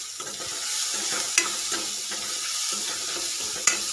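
A spatula stirs a dried fish and tomato curry in a pan over a steady bright sizzle, with soft scraping strokes and two sharp clinks against the pan.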